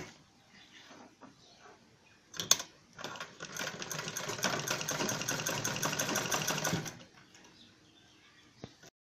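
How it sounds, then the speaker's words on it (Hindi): A sewing machine runs in one steady burst of rapid stitching through fur cloth while a zippered bag is assembled, starting after a sharp click and stopping cleanly near the end, close and fairly loud with quiet room noise around it. "यहाँ पे अब एक सिलाई लगाएंगे हम"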